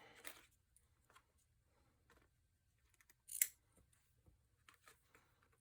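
Scissors snip as a paper pumpkin shaker frame is trimmed for a craft folio, with one sharp cut standing out among faint soft paper handling in a quiet room.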